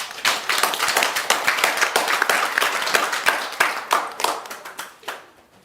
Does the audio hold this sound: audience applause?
yes